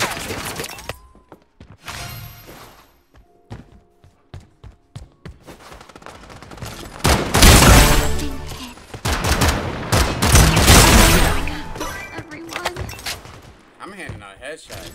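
Rapid bursts of gunfire in the shooter game Strinova, loud and dense through the middle of the clip, with scattered shots and game effects before and a voice speaking briefly over the action.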